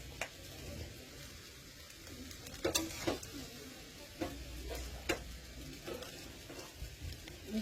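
Pakoras fry and get stirred in a pan, giving a faint, steady sizzle broken by scattered clinks and scrapes of the spoon, with no talking.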